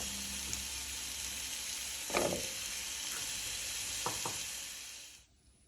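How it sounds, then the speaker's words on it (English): Onions sizzle in coconut oil for beetroot jollof with turkey tail, a steady close hiss marked by a few sharp stirring scrapes before the sound cuts off abruptly at the end. "Me coconut oil egu. Me de me I'm adding my onions."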